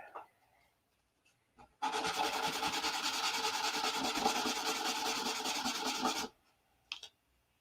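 Sanding a part for a P-47 model, a steady, close rasping rub that runs unbroken for about four seconds, with quiet handling noises before and after.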